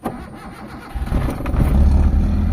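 A car engine cranks and catches, on a car with a hard-to-trace fault and a check engine warning, then settles into a loud, close running rumble that builds steadily, with no voices.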